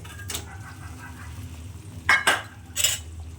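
Pomfret fish pieces being placed into a cashew curry in a pan, with soft clinks of utensil on pan and a faint background sizzle, a few brief knocks near the end.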